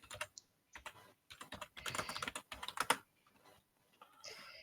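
Fingers tap out a quick search on a computer keyboard during a tabletop role-playing session, brisk irregular clusters of close key clicks with short pauses between bursts.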